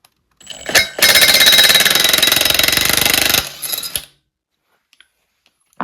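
Rapid rattling buzz of an impact wrench spinning the nut off the crankshaft of a 1960 Bolens Ride-a-matic engine, one loud burst of about two and a half seconds followed by a shorter whir and a few faint clicks.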